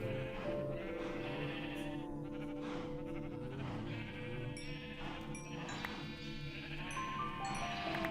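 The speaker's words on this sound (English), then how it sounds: "Breed, my sheep, breed." Sheep in the Minecraft video game bleat repeatedly and loudly, several overlapping calls layered over a busy game soundscape for the full eight seconds.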